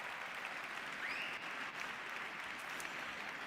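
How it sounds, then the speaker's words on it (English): An audience at the Repsol Honda Team's 2024 MotoGP team presentation claps in a sustained, even round of applause, with a brief whistle-like tone rising over the crowd. "So a big round of applause for all of you in the audience."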